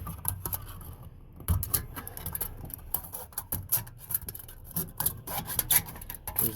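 An aluminium beer can is cut apart with a blade to make an alcohol stove: close, uneven rasping and scraping strokes with sharp metallic ticks and crackles, coming in short irregular bursts.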